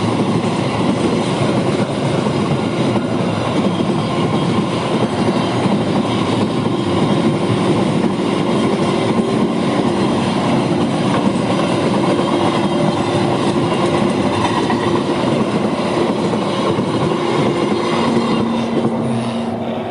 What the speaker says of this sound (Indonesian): Ini ada kereta lewat ini,